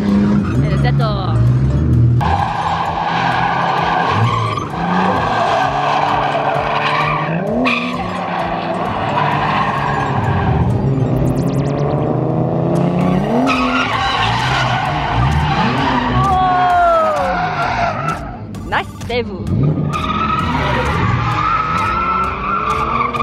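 Loud tire squeal and a revving engine as a car drifts, the screech rising and falling in long swoops, with voices speaking over it.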